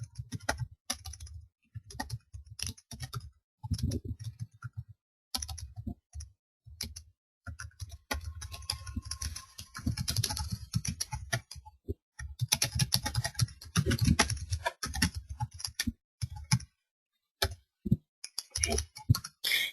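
Fingers type on a computer keyboard while moderating an online community forum, producing close, irregular bursts of clacking keystrokes separated by short pauses.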